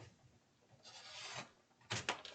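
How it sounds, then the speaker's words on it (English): A trimmer blade slices through a thick Dollar Tree bag, making a dry scraping rasp that swells mid-clip, then two sharp, louder cutting bursts near the end. "I'm going to bring in my trimmer"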